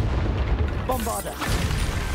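A Bombarda blasting spell goes off in Hogwarts Legacy as one deep, rumbling boom, with a burst of crackling debris that rolls on afterward. A voice speaks briefly partway through.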